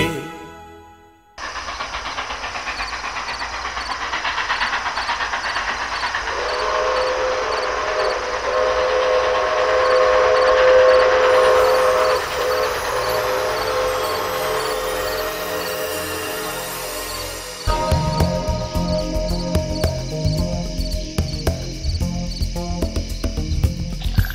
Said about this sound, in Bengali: ট্রেনটা এত লেট করিয়ে দিল